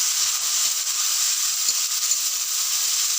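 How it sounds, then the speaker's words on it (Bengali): Potato and bitter gourd frying with chopped onion in a hot wok give a steady, close hiss and sizzle that holds evenly throughout, with no talking. "আলু উচ্ছেটা পেঁয়াজের মধ্যে কড়াই দিয়ে দিলাম।"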